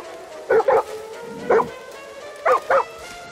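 A dog in the video game Far Cry 6 barks in short, close, fairly loud bursts: two quick yips, a single bark, then another quick pair, with no talking.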